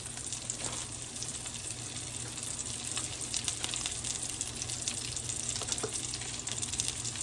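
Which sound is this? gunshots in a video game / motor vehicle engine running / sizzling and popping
sizzling and popping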